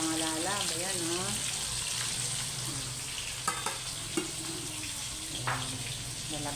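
Galunggong fish fry in a pan, hissing and crackling steadily with a few scrapes and taps of a utensil, while faint voices murmur in the background.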